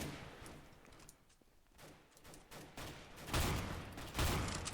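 Shotgun fire in Counter-Strike: Global Offensive, a sawed-off shotgun in an early alpha build, with several muffled game blasts over a steady background hum, the loudest two near the end.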